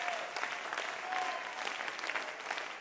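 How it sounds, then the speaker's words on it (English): Congregation applauding at a Sunday evening worship service: steady, dense clapping from many hands that carries on for a few seconds, alone and fairly close. "Clap your hands, somebody."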